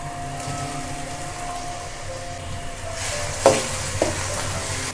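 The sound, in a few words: tomato masala frying and stirring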